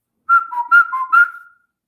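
A person whistles a short melodic phrase of five clear, close notes alternating between two pitches, alone with no talking, during an English lesson.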